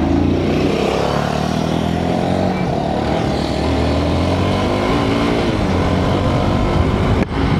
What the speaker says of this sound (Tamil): ஸோ இப்போ நான் ட்ரைவ் பண்ணிகிட்ருக்க வண்டி வந்து எக்ஸ்பல்ஸ் 200